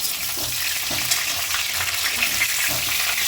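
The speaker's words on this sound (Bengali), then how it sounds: "এখন মাংসের আলুগুলো ভাজা হচ্ছে" Loud, continuous sizzling of potatoes frying in a hot pan, a dense crackling hiss with occasional pops throughout.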